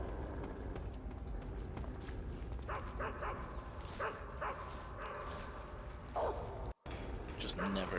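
A dog barks in Metal Gear Solid 3: Snake Eater, a few short yelps and woofs rising now and then out of a dense, steady game soundscape, moderately close but partly buried in the background noise.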